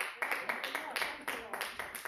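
A church congregation claps hands in a steady rhythm of sharp beats, close and fairly loud, with a voice sounding over it.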